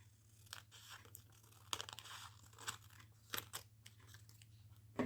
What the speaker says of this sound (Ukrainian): ми з вами беремо аркуш білого паперу та відрізаємо ось таким чином у нього куточки